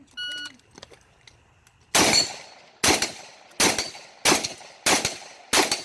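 A ZPAP M70 AK-47 rifle fired at 6-inch steel plates around 50 yards in a shooting match, six loud sharp shots at an even pace after a brief beep, each ringing out with a short decay.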